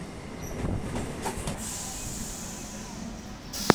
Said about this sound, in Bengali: ট্রেনটা জাস্ট ছাড়লো এখন।